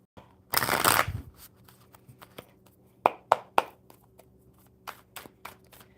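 A burst of tarot cards being riffled and shuffled, followed by several sharp taps and soft shuffles of the deck, close and fairly quiet.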